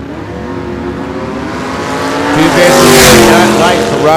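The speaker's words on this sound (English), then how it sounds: "he did a burnout, so he'll actually make the run to come back and run Burgess in the Essex" A drag racing car makes its run after a burnout, the engine note rising as it launches and roaring loudly with a surge of broadband noise near the end, heard close with faint talk beneath.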